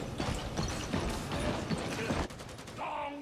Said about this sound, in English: you can hear the grenades on their vests jing-jangling as they jog around the map looking for you